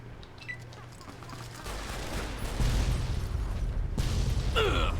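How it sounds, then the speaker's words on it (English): Game gunfire and a blast from an exploding car in Fallout: New Vegas, a dense loud fusillade of shots that swells into a heavy rumbling burst partway through, with no talk over it. "Oh, that car definitely explodes."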